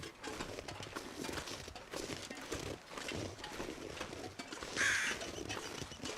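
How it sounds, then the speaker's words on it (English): A lone crow-like bird in the snowy wilderness of The Long Dark gives one short caw near the end, rising briefly above a steady bed of wind and ambient game noise. "I hear a single bird up there, leading me to the bunker."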